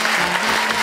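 A studio audience on a televised show claps for a departing guest, a brief burst of dense, even applause lasting under a second.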